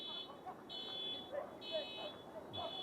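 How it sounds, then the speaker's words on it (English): An alarm beeps in steady repeated tones around a soccer stadium during a cup match, sounding over crowd murmur and talk. "Somebody's alarm's going off."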